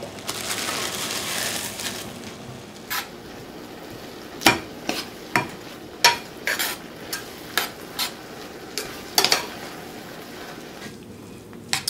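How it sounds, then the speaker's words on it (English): Crushed noodles with black pepper and Italian seasoning are stirred in a pan over a soft sizzle, with a run of sharp, irregular scraping and clinking strokes from the utensil against the pan. "So we're gonna add our crushed noodles."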